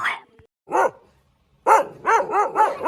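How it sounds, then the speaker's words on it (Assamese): A dog barks close by, one bark followed by a rapid run of four or five loud, sharp barks. "এইটো কুকুৰ ক'ৰ পৰা ওলালে"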